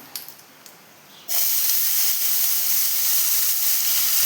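Tomatoes hit hot oil in a Kerala rasam tempering with dried red chillies, setting off a sudden loud, steady sizzle after a quieter opening second, holding strong to the end with no voices.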